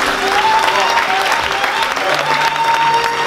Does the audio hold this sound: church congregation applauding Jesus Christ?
yes